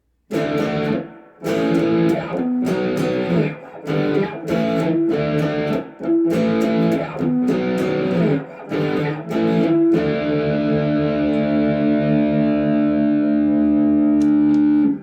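Distorted Gretsch Streamliner G2655 electric guitar on the bridge pickup with a bright, cutting tone: a run of strummed chords, then a long ringing chord left to sustain and fade, no voices.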